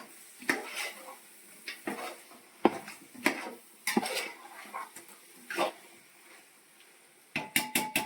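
A spoon clanks and scrapes against a pot as homemade biryani is stirred to keep it from burning, in irregular close metallic knocks separated by quiet gaps, ending in a quick cluster of clinks.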